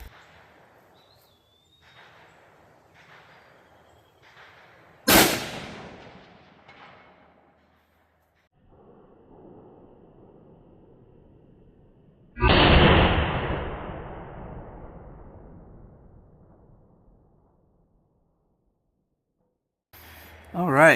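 A Savage Axis rifle in 6.5 Creedmoor fires Sellier & Bellot ammunition, two sharp, loud outdoor shots several seconds apart with trailing echoes, with soft speech between them.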